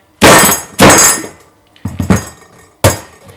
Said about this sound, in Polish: Najbezpieczniej będzie rozwalić taką dynię sikierą. O, widzicie? Pęka fajnie.